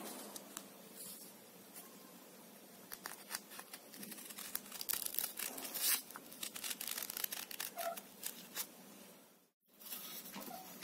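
Paper being cut with scissors to shape a flower for a garland, a steady run of soft crisp snips and crinkles, close and fairly quiet, with a brief pause near the end.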